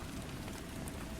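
Rain falls steadily as a soft, continuous hiss and patter, quiet and even from start to finish with no other sounds.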